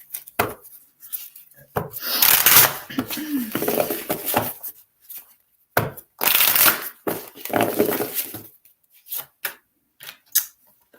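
A Butterfly Oracle card deck is shuffled by hand in bursts of papery riffling and slapping, loud and close, broken by short pauses, with a voice talking in between.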